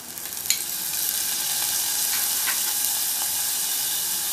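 Vegetables (onion, carrot, potato slices and drumsticks) dropped into a hot pan burst into a loud, steady hissing sizzle after a quick clatter, holding strong and even at close range.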